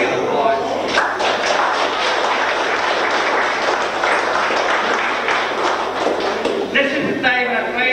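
Applause from a festival audience at the 24th Keith TMSA Festival in 1999, a steady, dense clapping that holds loud and continuous throughout.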